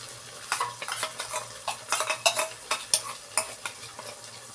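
A spoon stirs a blended spice mixture as it cooks in oil and tomato in a pan for matar paneer, with repeated scraping strokes over a steady sizzle, close and fairly loud, no talk.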